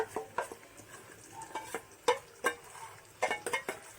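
A spoon stirs paneer curry masala in a pan, giving a run of close, irregular scraping and clinking strokes over a faint background sizzle.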